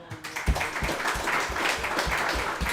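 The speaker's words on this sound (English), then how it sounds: "Can we clap that up?" An audience at a youth boys' lacrosse team gathering bursts into applause, a dense patter of clapping that swells after a moment and keeps going steadily to the end.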